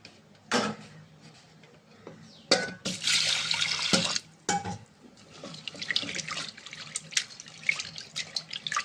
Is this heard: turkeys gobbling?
no